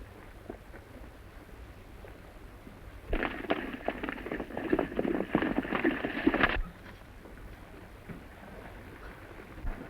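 Horse hooves clip-clopping on a ranch trail in an early 1930s Western, a brisk burst of rapid hoofbeats that rises suddenly, holds for a few seconds and then cuts off against a quiet background hiss.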